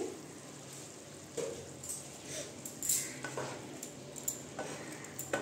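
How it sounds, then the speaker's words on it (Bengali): A lid comes off a pan of Bengali cauliflower do pyaza, followed by a few faint metallic clinks and light scraping over a soft background hiss, quiet and close. "আমি ঢাকনাটা এখন তুলে দিচ্ছি।"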